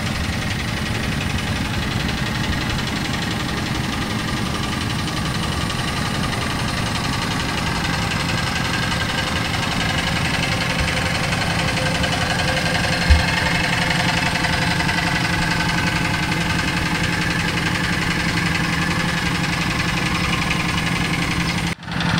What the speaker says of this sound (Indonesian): Kita sambil lihat bapaknya yang traktor ini.